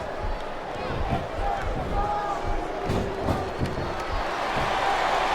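A wrestling arena crowd in the game SmackDown vs. RAW 2007 roars and cheers continuously, with thuds from the ring and commentary voices on top of the noise.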